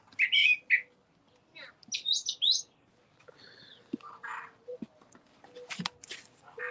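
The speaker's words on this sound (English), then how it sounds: "Look at those birds." Birds chirp and tweet outdoors in bright, clustered bursts, loud at first, then scattered and fainter, with a few knocks and a voice mixed in.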